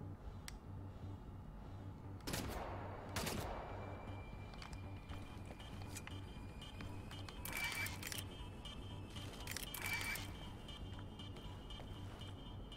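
Enemy gunfire in the shooter game Wolfenstein: The New Order, heard as a few scattered, fairly distant shots and sharp clacks over a low steady background hum, with no talking.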